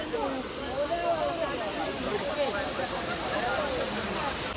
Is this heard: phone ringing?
no